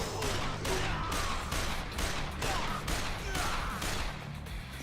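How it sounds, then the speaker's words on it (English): Weapons firing in the Splatoon 3 Side Order video game, with steady repeated bursts of shots in a loud continuous barrage over a busy game mix. "I am literally just gonna shoot you guys."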